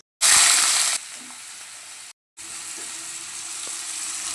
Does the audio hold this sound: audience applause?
no